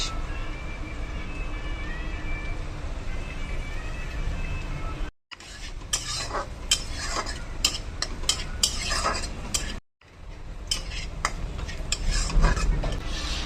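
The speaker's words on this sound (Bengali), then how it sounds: "রসুনটা একটু ভাজা ভাজা হয়ে গেছে, 2-3 মিনিট ভাজলেই গাদা" Garlic and onion frying in a pan, a steady close sizzle interrupted by two brief cuts, with frequent scraping and clinking of a utensil stirring in the later stretches.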